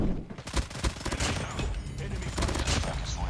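A PKM machine gun in a mobile shooter, its legendary skin firing a long, continuous stream of rapid shots until the belt runs empty, loud and steady throughout.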